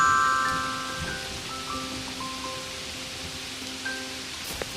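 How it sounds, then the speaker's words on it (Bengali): Heavy rain pouring down outside a roadside fritter shop, a dense continuous hiss of rainfall with faint tonal background hum and no talk. "ইস, বৃষ্টিটা আবার জোরে এলো রে।"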